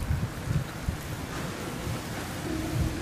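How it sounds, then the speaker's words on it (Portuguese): Gusty wind rushes and buffets across a Boya BY-M1 lavalier microphone in low rumbling bursts, steady and fairly loud, with no speech. "Do jeito que tá ventando aqui."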